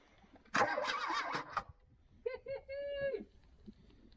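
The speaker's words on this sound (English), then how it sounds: "Should we see if it cranks?" An Audi 80 abandoned for 18 years has its engine turned over by the starter in one brief cranking burst of about a second, followed by a short voice.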